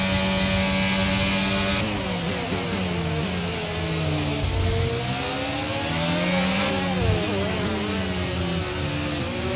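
Formula 1 race car engine in the F1 22 racing game, held at high revs after a downshift, a continuous loud whine with rising and falling pitch sweeps as it accelerates and shifts through corners.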